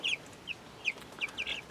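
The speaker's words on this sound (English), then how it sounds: "And speaking of little baby chickens, look how much these things have grown." Growing young chickens, now feathering out, make a series of short, soft high clucks and chirps in quick irregular bursts, close by and unaccompanied by talk, with a slightly longer call at the end.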